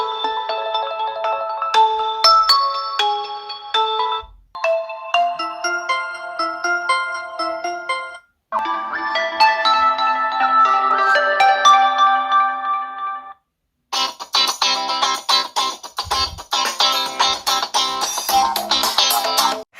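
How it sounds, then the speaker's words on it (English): Standard ringtones from the two speakers of an Infinix Note 30 VIP phone at maximum volume: loud, bright electronic melodies played one after another, each separated by a brief pause, with no voices. "Let's listen at maximum volume, standard ringtones."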